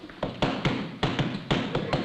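Several firm knocks on a door arrive in two quick groups of raps, close and fairly loud, with no speech over them.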